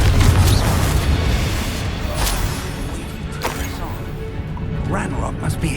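Fiery Confringo spell explosion in the Hogwarts Legacy video game, a loud booming burst up front followed by continuing rumbling combat effects and whooshes, with a voice talking over the action.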